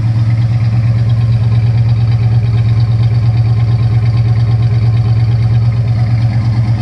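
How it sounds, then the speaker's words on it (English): A 1970 Plymouth Duster 340 V8 with dual exhaust idling loudly, a deep, even rumble throughout, close up and unbroken. "I've got it running because I love the sound of it."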